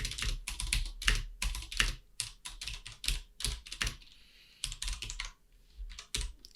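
Rapid, uneven bursts of typing on a computer keyboard while writing code, keys clattering close and clear in quick clusters with short pauses between.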